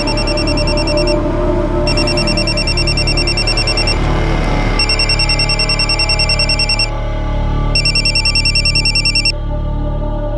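A telephone rings in repeated bursts of bright electronic trilling, loud and close, with short pauses between the rings and a steady low hum underneath.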